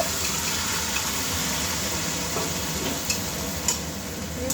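Pre-boiled vegetables for a cauliflower-stem chorchori are stirred in a hot pan, a dense continuous sizzle with occasional utensil taps and scrapes, close and steady.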